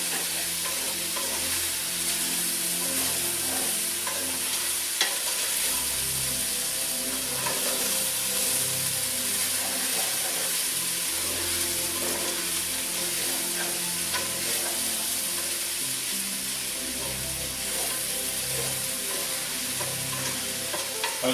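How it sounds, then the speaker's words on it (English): Vegetables, including celery, fry and get stirred in a pan for a beef shepherd's pie, a constant close sizzle with repeated scraping stirs and no talking. "Just want to cook it till the veggies get a little soft in here."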